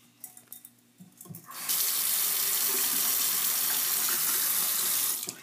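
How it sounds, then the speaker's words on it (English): Water runs steadily from a tap in a loud, continuous rush, preceded by a few brief clinks and rattles of aquarium gravel before the flow starts, as the gravel is rinsed. "You want to make sure to rinse the gravel."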